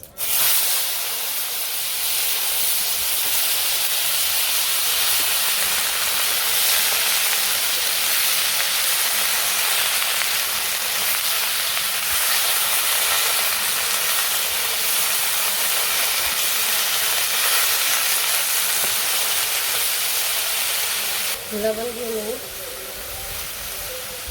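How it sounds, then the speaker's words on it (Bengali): A loud, steady sizzle of cumin seeds frying in hot oil left from frying fish continues without a break, briefly joined near the end by a short voice. "মাছ ভাজার পরে যে তেল রয়েছে তো ওই তেলের মধ্যে জিরা দিয়ে দিই"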